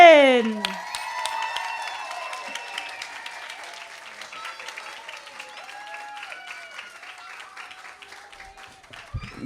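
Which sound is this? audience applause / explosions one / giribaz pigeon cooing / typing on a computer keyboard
audience applause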